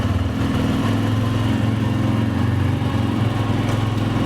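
A TVS Radeon motorcycle engine runs in first gear, a steady, close and loud single-cylinder putter with an even pulsing rhythm and no talk.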